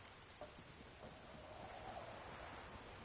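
Steady rain hiss in The Witcher 3, a dense broadband wash of falling rain with a faint low rumble underneath, constant and fairly distant, no voices.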